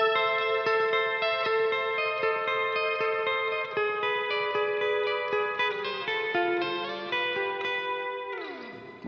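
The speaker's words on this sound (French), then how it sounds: "celle-ci, elle nous rajoute un petit effet dans notre reverb" A sustained tonal note processed through a guitar effects pedal layered on reverb, shimmering with chorus-like modulation and repeating pulses before the pitch bends downward at the end, loud and alone with no talking.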